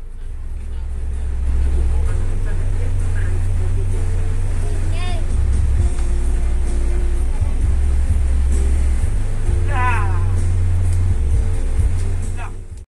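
A Hino AK240 bus idles at a roadside junction waiting for passengers, its deep, steady engine rumble loud and constant throughout, with people talking nearby over it.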